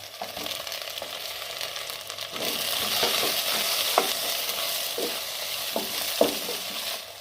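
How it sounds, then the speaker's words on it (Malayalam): Ripe tomatoes and cut vegetables for a Kerala sambar sautéing in a pan, a steady sizzle that grows louder partway through, broken by intermittent scraping and stirring clicks. "തക്കാളിക്കൊക്കെ നല്ലതുപോലെ ഒന്ന് വഴന്നു വരട്ടെ"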